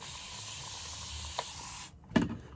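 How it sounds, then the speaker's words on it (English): A short hissing burst of a spray bottle misting water onto a sharpening stone while honing a straight razor, preceded by a faint earlier puff, over a quiet steady background hiss. "using the spray bottle."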